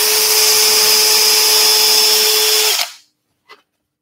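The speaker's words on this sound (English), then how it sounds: "when I drill through, we've got that support on the back of the board" A loud, steady power drill whines for nearly three seconds while drilling through a wooden board, then cuts off abruptly, followed by a brief faint knock.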